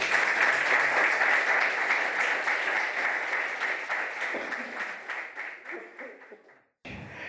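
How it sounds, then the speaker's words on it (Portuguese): A church congregation claps together, dense and loud at first, then thinning and fading before a brief break near the end. "Palmas para o Senhor Jesus."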